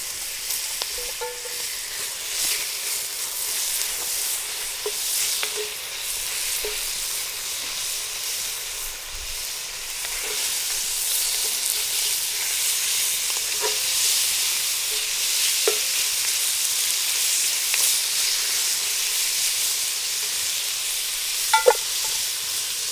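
Bacon fries in a pan over an outdoor fire beside a plane, giving a steady, fairly loud sizzle with occasional soft scrapes and clicks from stirring, without speech.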